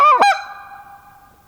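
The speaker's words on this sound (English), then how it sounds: "I'll bring my goose call, short reed goose call" A short-reed goose call blown as a turkey locator: two sharp, loud, honking blasts in quick succession, the second trailing into a sustained nasal tone that fades slowly, with no other sounds.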